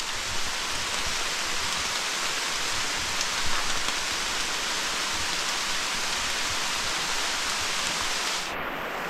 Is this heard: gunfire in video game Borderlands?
no